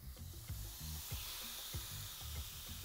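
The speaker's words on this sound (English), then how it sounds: "Should hear a nice, beautiful sizzle when this lays." Taco meat sizzling on a grill, a steady close hiss of frying with soft irregular crackles and a few low thumps, continuous and alone without talk.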